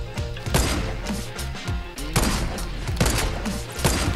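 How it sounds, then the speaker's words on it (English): Rapid bursts of gunfire in a Fortnite match, with repeated loud shots in close clusters and some heavy thumps, no talk over the shots. "They're shooting us from the south again."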